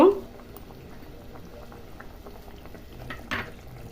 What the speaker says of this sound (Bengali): দেখুন ঝোলটা ফুটে এসছে।